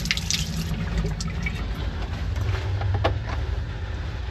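Shower water runs steadily in a cramped bathroom on an overnight sleeper train from Stockholm to Luleå in Swedish Lapland, a continuous close hiss and splash with brief drips and clatters and no talking.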